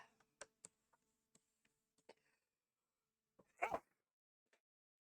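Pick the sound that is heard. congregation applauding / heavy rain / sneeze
sneeze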